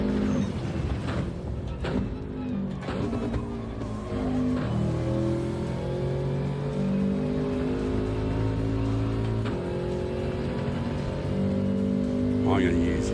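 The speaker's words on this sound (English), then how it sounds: "Maybe it might be different engine sound" A racing car's engine in Gran Turismo 7 holds a steady, continuous drone with shifting pitch as it pulls through the gears, running throughout with brief upward sweeps.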